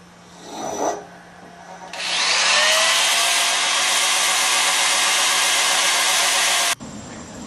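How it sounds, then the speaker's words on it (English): A power sander runs steadily against a wooden piece, starting after a brief rub and rising to a loud sustained whir for several seconds before cutting off abruptly. "I'm ready now to start to sand it with a combination of power sanding and hand sanding"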